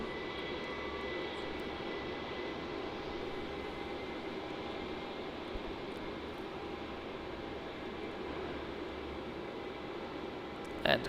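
Qantas airliner QF36 from Singapore at Melbourne Airport, a steady distant broadband roar of jet engines that holds evenly throughout, faint and without speech.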